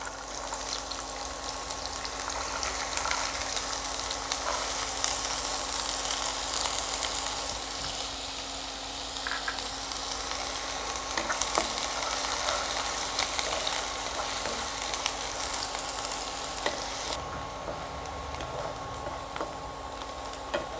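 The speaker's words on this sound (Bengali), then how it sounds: "তেল গরম হয়ে গেছে, দিয়ে দিচ্ছি পেঁয়াজ কুচি" Chopped onion frying in hot oil for dhaba-style paneer bhurji, a steady, close, bright sizzle that hisses continuously and settles slightly quieter toward the end, with no talking.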